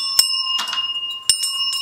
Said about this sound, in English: I do have a bell.